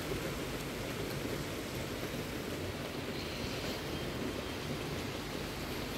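Heavy rain falls in a steady, dense wash of hiss without pauses, continuous and even throughout with no voices.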